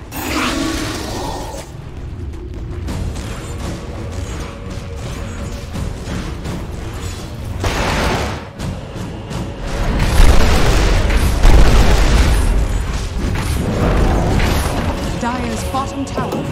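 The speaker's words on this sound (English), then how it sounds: "Dire's bottom tower is under attack." Explosive booms, crashes and shattering bursts from a tower under attack in a Dota 2 match, dense and loud throughout, with a swell of heavier impacts midway and a voice speaking over the din.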